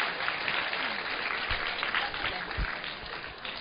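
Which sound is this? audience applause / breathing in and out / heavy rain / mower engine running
audience applause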